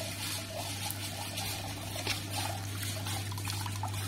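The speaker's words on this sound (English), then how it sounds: "And you can still see the water flowing. Nice and steady little stream. Just trickling." Water from the outlet of a reflux still's condenser trickles in a small, steady stream, a faint, continuous splashing dribble over a low, steady electrical hum.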